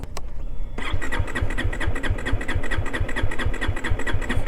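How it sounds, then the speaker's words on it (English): A 2024 KTM Duke 390 motorcycle engine cranks after a brief click, turning over in a fast, steady rhythmic chug that continues without catching, loud and close. "this motorcycle is actually going in a loop for the ignition"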